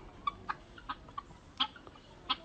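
Young rooster on a farm giving a series of short, sharp clucks and chirps spaced irregularly over a quiet outdoor background, fairly close.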